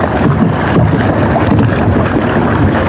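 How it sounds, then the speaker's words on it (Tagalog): Strong wind at sea roars steadily around a boat, with broadband gusting and wind buffeting across the microphone, loud and continuous throughout, with no voices. "Grabe pagkalakas ng hangin."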